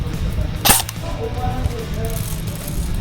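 A King Arms M4 airsoft AEG fires a single shot of 0.20 BBs indoors, one sharp crack near the start, while someone talks quietly throughout.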